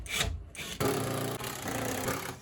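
Screws being worked loose from the front panel of a Candy heat pump tumble dryer, giving close, dry scraping and rubbing sounds with a few short knocks, continuous over about two seconds with no talking.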